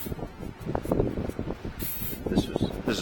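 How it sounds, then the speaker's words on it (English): Brake cleaner sprayed onto a Toyota Land Cruiser 200 Series brake, a close hissing spray in short bursts mixed with dripping and spattering. "I'll just do it with the brake clean."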